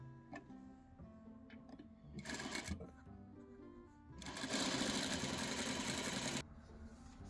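A sewing machine stitches dark fabric in two loud, close bursts of rapid mechanical whirring: a short run first, then a longer steady run of about two seconds. Quieter ticking and handling sounds come between the runs.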